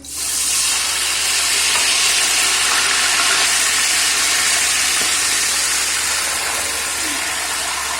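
Water poured into hot ghee in a large pot while cooking zarda, a sweet rice dish, sets off a loud, close, continuous sizzling hiss that stays strong and steady throughout.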